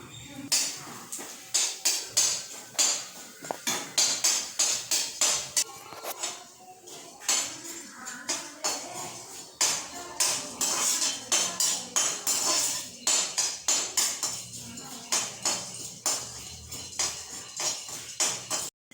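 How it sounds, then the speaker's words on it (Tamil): Cumin seeds and black pepper are dry-roasted in a pan for curry leaf podi, with a spatula scraping and clinking against the metal in a quick, repetitive stirring rhythm up close. "இப்போ மிளகும் சீரகமும் நல்லா பொரிஞ்சு வருது."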